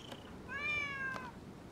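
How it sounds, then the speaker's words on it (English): A stray cat in Rise of the Ronin gives a single clear, drawn-out meow, fairly quiet over a faint background hum, with a soft tap or two around it. "Who'd have thought the stray cat would wander in?"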